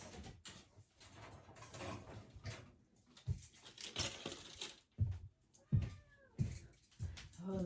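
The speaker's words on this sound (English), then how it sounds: "Oh, there's my cat, meow meow." A cat meows indoors a few times, faint and intermittent, amid rustling and handling noises during wreath crafting.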